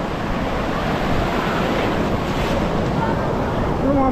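Ocean surf at a beach in Real, Quezon rushes and roars continuously, mixed with heavy wind buffeting the microphone, loud and close.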